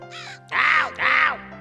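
Two loud, harsh caws from a nearby crow, following a shorter, thinner call, all in under two seconds.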